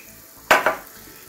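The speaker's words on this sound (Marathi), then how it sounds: "आता एक छोटी फोडणी आपल्याला तयार करायची आहे" Hot oil for a small tempering for Udupi-style sambar sizzles in a pan, two quick loud bursts of crackling close by that fade within a second, with no talking.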